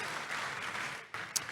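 A church congregation applauds during a Sunday sermon, a steady wash of hand claps at moderate distance that dips briefly near the end before resuming.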